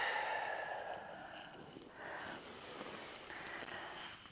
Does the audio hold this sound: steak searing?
no